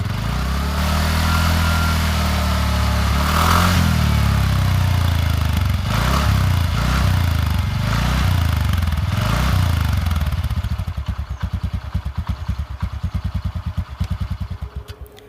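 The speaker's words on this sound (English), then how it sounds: "The sporty stubby muffler is one of the best mufflers as compared to any other scooter." A scooter engine with a sporty stubby muffler runs with a loud, throaty exhaust, revving up and down before settling into a choppy, pulsing idle.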